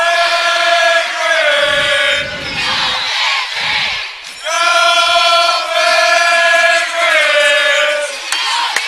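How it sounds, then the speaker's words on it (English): A loud high school volleyball crowd at a Nebraska girls' state tournament match chants and yells in sustained, rhythmic bursts, with brief pauses between the roaring cheers. "They do have a loud crowd behind us."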